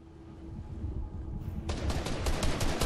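Rapid automatic gunfire from the video game Fortnite breaks out partway through, a dense burst of shots following a quieter stretch of game ambience.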